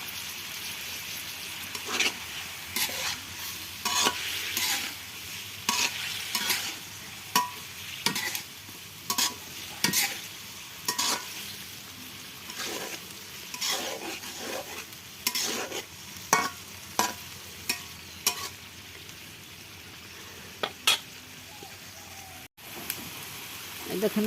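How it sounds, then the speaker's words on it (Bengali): Hilsa fish sautéing in a pan, pumpkin-vine greens on the way, with steady oily sizzle and frequent scraping stirs of a spatula in irregular bursts, close and fairly loud, no talk. "এখন আমি মাছটা দিয়ে দেবো। মাছটা দিয়ে আমি কষাই নেব।"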